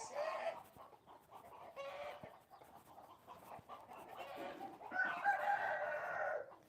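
Mother hens clucking and chattering nearby in several bursts, with high peeping calls from baby chicks rising toward the end; no talking.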